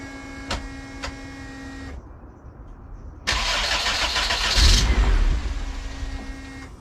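An AWD turbo Honda CRX with a freshly fitted full exhaust and box muffler cranks and fires, a loud burst of engine starting noise after an electronic chime, then settling toward a rough idle.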